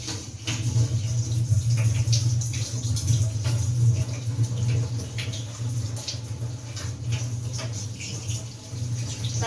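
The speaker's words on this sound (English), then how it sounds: "wash the poha. So I use the running water." Tap water running continuously over poha being washed, a steady close splashing stream with irregular spatters and shifts as the flakes are rinsed, no one speaking.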